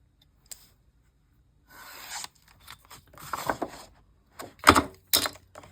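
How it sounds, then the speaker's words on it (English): Scissors snip and rub through paper for a travel journal, a few short scattered cuts and rustles of paper at close range, quiet between strokes, with no talking. "We're going to cut it a little bit bigger because if we have to trim it"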